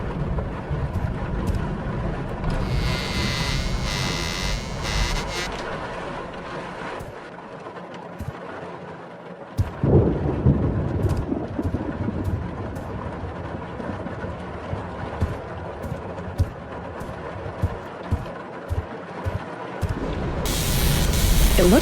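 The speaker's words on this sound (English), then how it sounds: "Lightning must have struck it" Wind-driven rain and storm noise rush steadily through a night-time horror game scene, broken by sharp crackling bursts and a loud surge near the end as a lightning-struck transformer blows.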